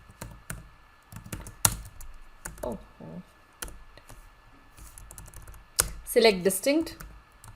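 A computer keyboard clatters with scattered keystrokes and short bursts of typing while someone talks over it, then the clicks cluster into a quick run near the end.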